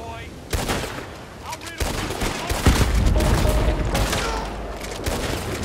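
Gunfire in Red Dead Redemption 2, a dense run of loud shots and bursts across the whole stretch over a rumbling low background.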